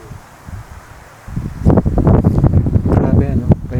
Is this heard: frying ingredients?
no